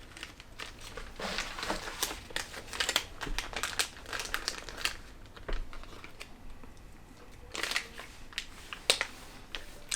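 Crinkly plastic snack packaging from a spring snack box is torn and rustled open in close, busy bursts of crackling, with brief pauses between handling.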